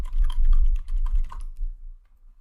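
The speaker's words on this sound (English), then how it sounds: "they are opening a text editor and typing something" Quick bursts of typing on a computer keyboard, close and crisp, a rapid run of key taps that stops after about a second and a half, leaving near silence.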